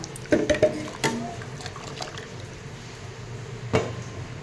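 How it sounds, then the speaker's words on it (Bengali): Washed Gobindobhog rice and fried moong dal are tipped into a pot of boiling water, giving several close wet splashes and plops early on, then a softer bubbling simmer with one more splash near the end. "দিয়ে দিচ্ছি ধুয়ে রাখা গোবিন্দভোগ চাল"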